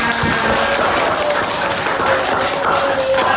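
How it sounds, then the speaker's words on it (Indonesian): A classroom of fourth-grade pupils claps together after a maths lesson on flat shapes, a dense, steady patter of many small hands filling the room, loud and continuous throughout. "Tepuk tangan untuk semuanya."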